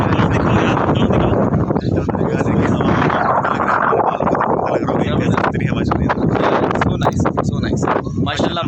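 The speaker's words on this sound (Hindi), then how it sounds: "बेहतरीन हवा चल रही है इस टाइम" Strong wind blows outdoors in a village in Gujar Khan, a loud steady roar buffeting the microphone throughout, with talking mixed into the gusts.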